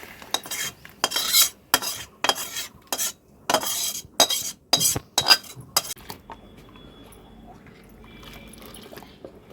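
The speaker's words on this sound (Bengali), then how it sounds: "এখন আস্তে আস্তে নেড়ে ঠান্ডা করে দিব।" Hot milk being stirred in a pot at home to cool it, with a run of sharp metal spoon clinks and scrapes against the pot that come in quick bursts, then fade to quiet near the end.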